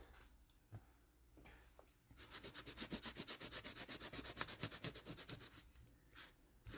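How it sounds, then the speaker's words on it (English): Rubbing back and forth over leaves on a mixed-media bookmark craft: a soft scuffing at first, then a steady rhythmic rasping stroke repeated many times in quick succession, close and fairly quiet. "Rubbing back and forth on our leaves there."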